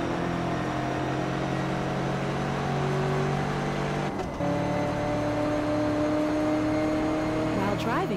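A sports car accelerating hard in the racing game Test Drive Unlimited 2: a steady, close engine drone climbs in pitch, drops sharply at one gear change, then keeps pulling upward.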